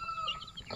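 Colorful chickens in a free-range coop make soft, close clucking calls, a few short overlapping notes over low farmyard rumble, with no talk.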